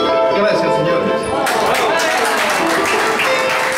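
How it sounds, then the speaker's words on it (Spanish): Applause and clapping from guests at a commemorative luncheon gathering, a dense steady patter of many hands that swells partway through, with talk and crowd murmur mixed in. "aplausos para nuestro amigo."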